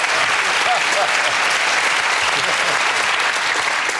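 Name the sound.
audience applause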